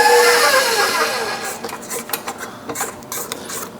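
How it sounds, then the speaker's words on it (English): An electric mixer whisk runs through lemon bar batter with flour in a bowl, a steady close whir with rattling and scraping, then sparser clicks and rubbing taps as the beating eases. "you start out slow because otherwise you'll fling this everywhere, especially anything with flour in it."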